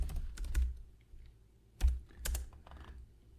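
Keys clatter on a computer keyboard while code is entered for a first console app, two quick bursts of close, crisp clicking separated by a short pause.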